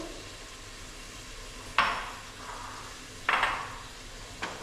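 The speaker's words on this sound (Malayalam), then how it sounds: "നാല് സവാളയാണ് എടുത്തിട്ടുള്ളത്. അതിങ്ങനെ ചോപ്പ് ചെയ്തിട്ടുണ്ട്. അതിട്ട് കൊടുത്തു." Four chopped onions sizzle in a hot pan with a steady frying hiss, broken by two louder bursts of sizzling as they are stirred and a brief third flare near the end.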